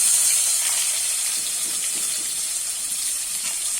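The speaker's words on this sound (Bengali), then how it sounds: "পেঁয়াজটা আমি একটু ভালো করে ভেজে নেব লাল লাল করে" Chopped onion frying in hot oil over cumin and whole dried red chillies for a prawn and fig curry, giving a steady, close, bright sizzling hiss that holds evenly throughout with no talking.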